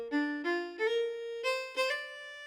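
Bowed string-like synth notes from the Friction violin plugin play a short rising phrase, five sustained tones with smooth attacks, alone and fairly quiet.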